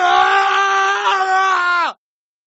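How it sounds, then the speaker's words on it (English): One loud, sustained scream from a single close voice holds steady for nearly two seconds, then drops off sharply into silence. "I will give you one scream."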